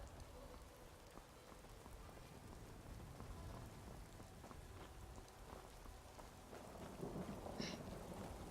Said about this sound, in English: It's chilly in that rain.